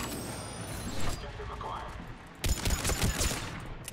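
Rapid gunfire from a Mass Effect 3 firefight, dense bursts of shots with a sharper, louder volley near the end, over busy game noise and talk.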